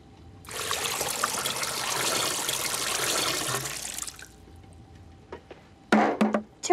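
Loganberry juice pours in a steady liquid stream for a few seconds, then stops, followed by a few short splashy bursts near the end.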